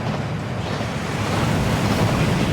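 Waterfall in Hogwarts Legacy, a dense, steady roar of rushing water, loud and close, unbroken for the whole stretch with no voices.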